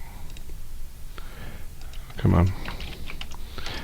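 Typing on a computer keyboard in a quiet room: scattered light clicks and a brief louder clatter of keystrokes near the middle, with a person talking over it.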